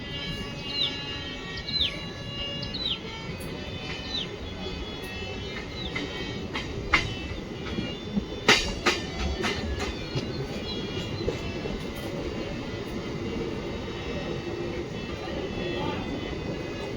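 A MEMU express train runs on a rural line from KGF toward Bengaluru after leaving Koramandal station, with a steady rolling rumble and clatter throughout, a few sharper knocks, and birds chirping faintly outside.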